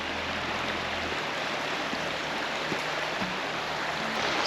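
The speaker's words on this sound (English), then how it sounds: "I can't get over how cool this creek is." A creek runs beside a spring bee yard in Ventura County, a steady broadband rush of flowing water, close and continuous, with a faint low hum underneath and no talking.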